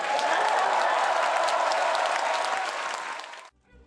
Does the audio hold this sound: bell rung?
no